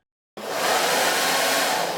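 A hair dryer powered through an Atorch S1W smart plug set to 1 kilowatt switches on abruptly and keeps up a steady, loud broadband whoosh of rushing air after a brief silence.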